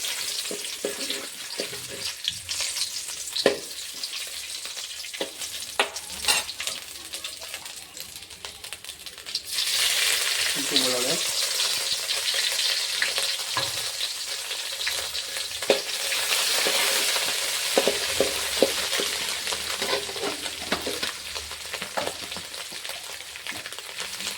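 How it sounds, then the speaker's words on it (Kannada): Peppercorns and urad dal fry in hot oil in a steady, bright sizzle with scattered pops and crackles, growing louder and denser midway through. "ಎಣ್ಣೆ ಬಿಸಿಯಾಗಿದೆ ಚೂರು ಮೆಣಸೆ ಹಾಕ್ತಿದ್ದೀನಿ ನಾಲ್ಕೈದು ಕಾಳು ಆಮೇಲೆ ಉದ್ದಿನ ಬೇಳೆ ಕೆಂಪಾಗಿ ಫ್ರೈ ಆಗಬೇಕು"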